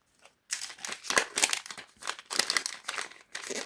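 Close, loud crinkling of a plastic packet being handled and opened, with rapid rustling bursts and brief pauses.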